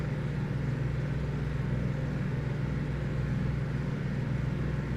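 Twin Otter aircraft engine heard from the cabin in a flight simulator game, a steady, loud, continuous drone with a deep hum that holds unchanged throughout.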